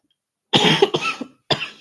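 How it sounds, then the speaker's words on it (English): A person coughs hard twice in quick succession, then once more after a short pause; each cough is close, loud and harsh, with silence before and between. "I've just got a bit of a cough at the moment."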